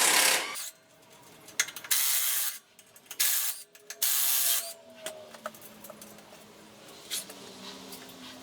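A bumper guard is worked off the front of a Kubota BX23D compact tractor, with close ratcheting and scraping bursts and metallic clicks, then quieter rattles and small mechanical sounds as the parts loosen, with no talking.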